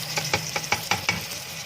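Chicken with daal mash frying in a pan, with a steady rhythm of scraping stirring strokes, about five or six in quick succession, over a soft background sizzle.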